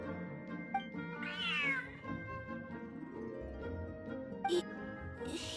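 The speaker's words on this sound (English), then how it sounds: "this cat is way bigger than the others" A cat meows in the video game Genshin Impact. A drawn-out, rising meow plays over a steady background of game music, and shorter chirps follow near the end.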